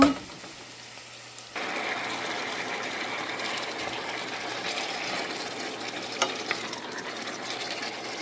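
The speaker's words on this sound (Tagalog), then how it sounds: "Lalagay ko na po yung baka dito." Marinated beef drops into a hot pan and breaks into a loud, steady sizzle after a quiet start, and the frying continues evenly with a few faint clinks.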